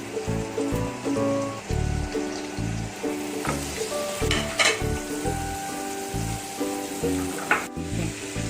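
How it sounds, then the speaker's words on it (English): Chopped garlic sizzles in a hot pan of oil and butter, a steady close frying crackle with a few sharper pops, running under a tonal musical backing. "little bit of oil, then you can add the butter, to this you add the chopped garlic first."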